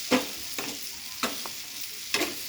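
Soybeans coated in masala are stirred in a pan, four distinct scraping strokes of a spoon spaced about half a second apart over a faint, quiet sizzle.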